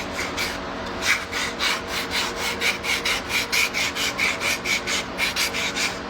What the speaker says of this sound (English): But a bow sander works really nice too. It doesn't take this northern white cedar,